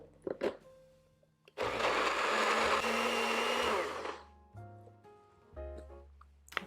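A large high-powered countertop blender purees vegan, gluten-free, sugar-free pumpkin pie filling with a loud, steady whirring roar lasting about two seconds. Short bumps and clatter come before and after it.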